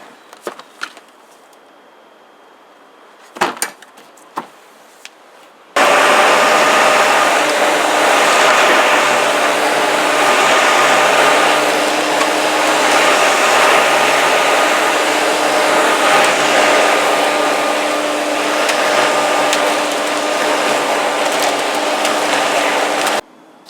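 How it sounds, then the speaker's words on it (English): A Flymo Hover Vac 280 electric hover lawn mower with a 29cm cutting width starts after a few faint clicks and knocks. It then gives a loud, steady whirring drone close by for about eighteen seconds before cutting off. "So this is the Flymo Hover Vac 280, and it has a 29cm cutting width"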